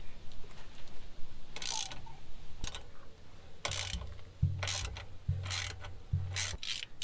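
A ratchet clicks in repeated bursts while loosening 13 mm steering stabilizer bolts on a 2021 Jeep Gladiator Rubicon, close and crisp, with short pauses between strokes.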